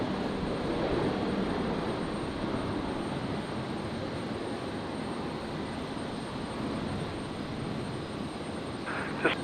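Jetstar flight 821 rotating on takeoff at Brisbane airport on a stormy night, its jet engines a steady, moderate distant roar that swells slightly early on, with a small click near the end.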